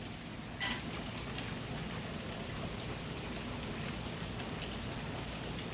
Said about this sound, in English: because it is thundering and lightning and raining too